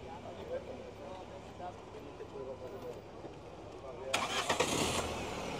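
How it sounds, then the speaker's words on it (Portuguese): A Fiat Palio engine cranks and catches near the end after a stretch of quiet background rumble with someone talking, at a used car fair in Caruaru, Brazil; the start is brief and moderately loud. "o amigo vai dar partida aqui no motor, para a gente escutar o carro aqui funcionando"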